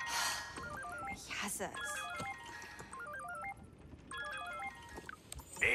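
Phone ringing tone in Marvel's Spider-Man 2 while calling MJ: a repeating, stepped electronic ring pattern sounding in several bursts, mixed with game sounds and a voice speaking over it.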